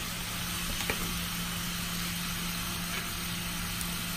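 Onion, garlic and tomato sizzle softly and steadily in a frying pan, a faint, even hiss with a stray tick or two.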